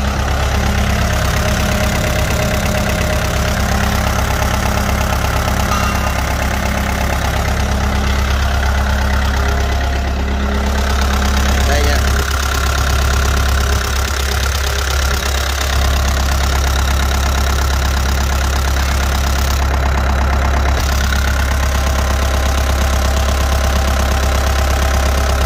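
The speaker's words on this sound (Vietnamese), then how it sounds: "Đây động cơ nó đây ha." A Kubota L4708 tractor with a dozer blade and tiller attachments idles steadily and loudly up close, a constant low diesel rumble with mechanical vibration and no speech.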